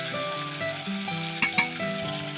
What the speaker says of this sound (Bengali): মাংসটা দিয়ে মশলার সঙ্গে ভালোভাবে মাখিয়ে নিলাম একটু খুন্তি দিয়ে।